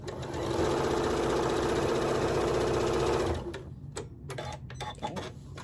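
A sewing machine stitches quilt block pieces together in one loud, continuous close-up run of rapid needle chatter for about three seconds, then stops, leaving a few soft clicks and handling sounds.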